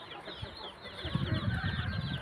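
Chickens cluck in a backyard with a close, busy run of short, choppy calls that grow louder and denser in the second half.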